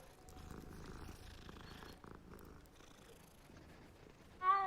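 A cat purrs in the video game Hogwarts Legacy, a soft continuous rumbling purr with faint game ambience, ending in a brief louder chirping sound.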